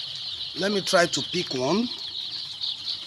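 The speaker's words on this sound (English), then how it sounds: "So these are the things, the birds, the poultry birds." Poultry chickens on a Nigerian farm flap and cluck close by, a few short bursts of wing noise and calls over a background hum, with a person speaking briefly.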